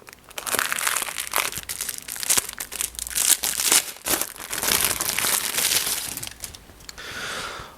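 Single-use plastic wrapping crinkles and crackles as it is pulled off an Elegoo Saturn 4K 3D printer part, a close, loud run of irregular crumpling and tearing bursts with no talk.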